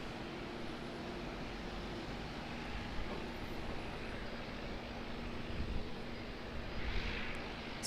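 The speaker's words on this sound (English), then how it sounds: "it is the Cathay Pacific Airbus A350-1000, our first heavy arrival of the stream" Cathay Pacific Airbus A350-1000 arriving at Auckland Airport, a steady distant jet roar with a faint rushing wash that swells slightly toward the end, heard alone.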